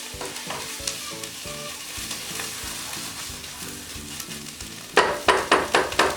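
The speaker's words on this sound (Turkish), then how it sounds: "bir yemek kaşığı dolusu biber salçamı soğanımın üzerine ilave edip güzelce karışmasını sağlayacağım" Pepper paste and onions sizzle in a pan for meatless Turkish white bean stew, with background music, followed by several loud, rhythmic stirring scrapes near the end.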